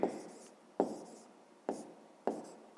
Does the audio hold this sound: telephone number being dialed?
no